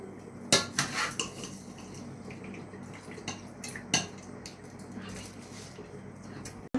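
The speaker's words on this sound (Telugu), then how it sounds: "ఇలా నీళ్ళు మరుగుతున్నప్పుడు ముందుగా నానబెట్టుకున్న బియ్యం వేసుకుందాం" Soaked rice tips into a pot of boiling water, with sharp metallic clinks and scrapes of a utensil against the pot over a low simmering hiss, close and fairly quiet.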